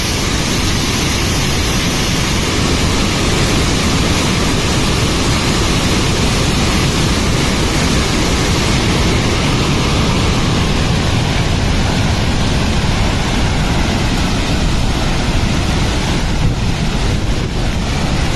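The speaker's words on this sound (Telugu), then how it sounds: "అయ్యో ఎంత పెద్ద వాటర్ ఫాల్ చూడండి, ఎంత పెద్ద ఉంది." Continuous heavy rush of a big waterfall on the Harichandragad trek in Maharashtra, a dense, unbroken roar sustained at near range for the whole stretch with no one speaking.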